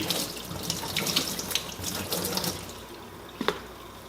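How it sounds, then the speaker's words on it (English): Tap water runs steadily into a sink while kale leaves are rinsed, a continuous splashing hiss with a few sharper splashes near the end, close by and alone without talk. "So I'm all done rinsing, and I'm just going to let them drain for a bit."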